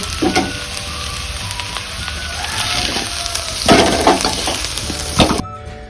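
Potatoes fry in a pan of hot oil with a steady crackling sizzle, punctuated by several louder scraping and stirring bursts from a spatula close by, ending suddenly.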